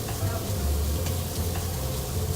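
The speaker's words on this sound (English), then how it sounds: "we're going to put the fat side down in the cast iron skillet." Meat placed fat side down in a cast iron skillet, a soft steady sizzle running under people talking nearby.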